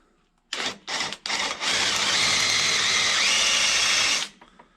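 A power drill whirs in a few short bursts, then runs steadily and loudly for several seconds before stopping, grinding into the metal of a Farmall Super C tractor engine.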